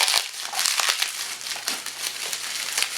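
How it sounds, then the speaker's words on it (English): Bubble wrap around a brass N scale Amtrak P42DC model peeled away in close, continuous crinkling and crackling, loud and busy with sharp irregular pops throughout. "And one more layer of bubble wrap to get through. Let me go ahead and peel off that."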